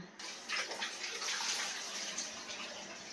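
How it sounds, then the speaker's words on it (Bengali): Rice being washed in water before soaking, a steady splashing and swishing of water in a container, close and continuous with no talk. "চালটা ধুয়ে ভিজিয়ে দিলাম"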